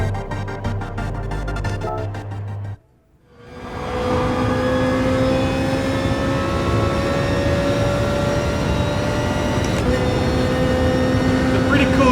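A race car's engine in Gran Turismo Sport, a mechanical drone that cuts briefly after a music segment, then rises steadily in pitch as it accelerates through a lap, loud and close.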